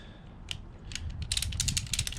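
Ratchet straps clicking as they are tightened to lock a Portarod rod holder onto a truck crossbar, a series of short sharp mechanical clicks that start sparse and grow into a quick steady run, close and fairly quiet.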